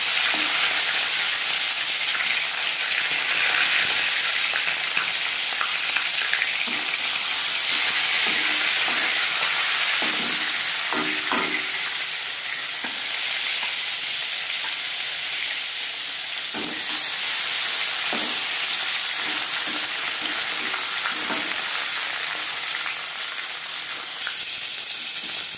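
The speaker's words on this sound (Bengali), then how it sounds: "এবার দিয়ে দেব ম্যারিনেট করে রাখা মাছ।" Marinated tilapia fries in hot refined oil with a steady, dense sizzle and occasional pops and utensil clinks throughout, no voices.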